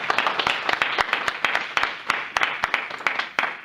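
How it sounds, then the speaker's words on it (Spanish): A church congregation claps through a Mother's Day service, a quick, uneven burst of many hands at moderate volume with a little talk underneath. "Vamos a darle un fuerte aplauso al Señor."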